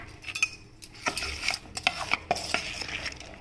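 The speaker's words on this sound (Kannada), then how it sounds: "ಕೊತ್ತಂಬರಿ ಲಾಸ್ಟಲ್ಲಿ ಹಾಕಿ ಕಲಸ್ಕೊಳ್ತೀನಿ" Vegetables, ginger and coriander are stirred into uttappa batter made from puffed rice, giving repeated wet squelching strokes and spoon clinks against a bowl, close and alone without talk.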